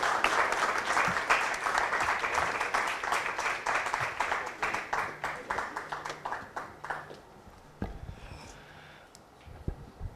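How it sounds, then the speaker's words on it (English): Following a lecture on insolvency and competition law in Mumbai, a room bursts into full applause that thins out after several seconds, leaving a few scattered, isolated claps trailing at the end. "let's give him one more round of applause, please"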